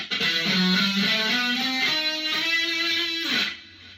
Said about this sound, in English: So harmonic minor is going to sound like this.